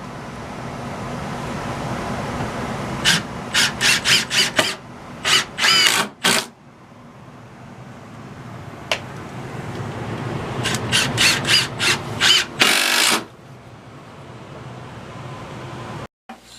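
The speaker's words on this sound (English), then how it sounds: "And a couple more screws and be ready for the next step." A power tool drives screws into wood in two clusters of quick, loud whirring bursts, each a rapid series of short spins, separated by a quiet gap, over a steady low background rumble of traffic.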